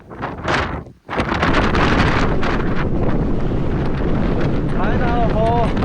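Strong desert wind roars against the microphone in a constant heavy rumble, briefly dropping out before surging back, with a voice partly heard under it.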